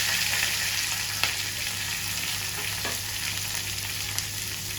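Onions and curry leaves fry in a pan for aloo bhaji, a steady close sizzle with a few faint stirring clicks and no talking.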